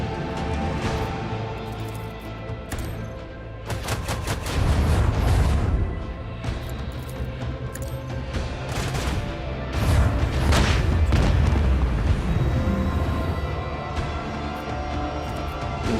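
Torpedoes launched and detonating in the space-combat game Rogue Trader, with deep booms and crashing bursts in two heavy waves over a sustained rumbling background, and no talking.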